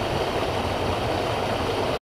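A small waterfall in the Peak District in midwinter gives off a steady, full rush of falling water close by. It plays alone and cuts off abruptly near the end.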